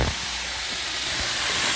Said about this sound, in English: just leave it in and let the steam do all the work